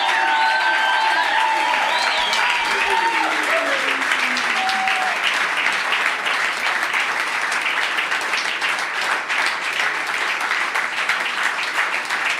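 A church congregation applauds and cheers for the King of Kings, with dense, sustained clapping and voices filling the hall. A high sung or shouted line rises and falls over the first few seconds before the crowd noise carries on steadily.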